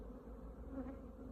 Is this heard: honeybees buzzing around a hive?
yes